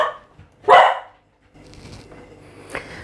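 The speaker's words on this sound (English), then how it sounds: "the dog barked" A dog gives one loud, close bark, followed by quieter household background noise and a faint click.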